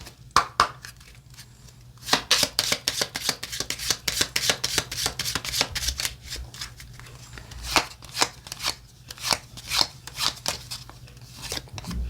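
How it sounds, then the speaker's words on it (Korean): Lenormand tarot cards being shuffled by hand, a long run of crisp, rapid riffling and flicking bursts, close and fairly loud, with a faint steady hum underneath and no talk. "레노먼드 카드를 5장 뽑아볼게요"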